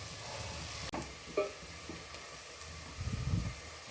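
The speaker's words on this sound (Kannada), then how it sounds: "ನೋಡಿ, ಚೆನ್ನಾಗಿ ಫ್ರೈ ಆಗ್ತಾ ಇದೆ. ಕ್ರಿಸ್ಪಿ ಥರ ಆಗ್ತಾ ಬಂದಿದೆ." Onions fry in hot oil for onion pulao, turning crisp, with a steady close sizzle broken by a few spatula scrapes and stirring knocks.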